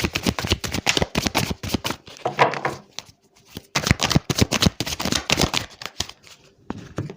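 Tarot cards being shuffled and drawn, a quick run of crisp riffling slaps and flicks in bursts, close and fairly loud, with short pauses between them.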